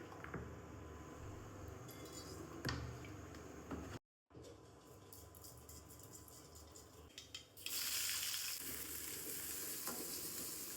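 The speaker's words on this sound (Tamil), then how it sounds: "வெங்காயம் வதக்கிட்டு இருக்கு." Onions sauté in a pan with a continuous close sizzle, broken by occasional stirring clinks and a brief gap. The frying swells louder toward the end, and no voices are heard.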